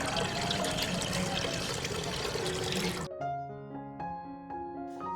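Roughly four glasses of water pour into a pot on a stove for Kashmiri pink chai, a steady close splashing gush lasting about three seconds before stopping abruptly as music takes over.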